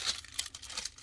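Quick crinkling and tearing of thin plastic wrap being pulled off an album, a short burst of close, crackly rips.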